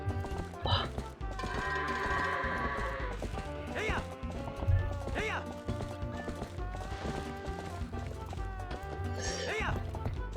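Goats bleating in the Zelda Twilight Princess HD game, with several short wavering bleats spread across the clip among hoof clops and game music.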